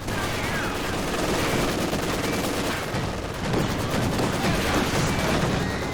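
Machine gun fire from a US half-track crew in Company of Heroes 2, a dense, continuous fusillade of rapid shots that stays loud and unbroken throughout.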